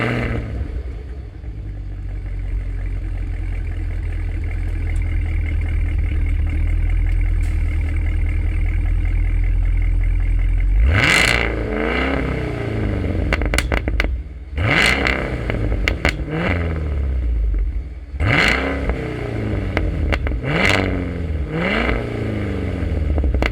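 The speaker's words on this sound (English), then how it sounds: "So let's go ahead and fire it up. You can hear how noisy and loud this car actually sounds." A 2024 Cadillac Escalade V-Series V8 cranks and fires loudly after a stretch of low rumble, then the exhaust barks through a series of sharp, close revs that drop back to a heavy idle between blips.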